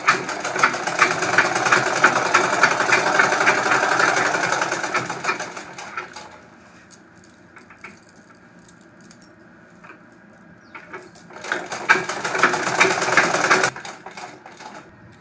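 A sewing machine runs in two long bursts, stitching elastic onto a heavy palazzo, with a loud steady whirr that drops to a quieter pause of handling and light clicks before picking up again.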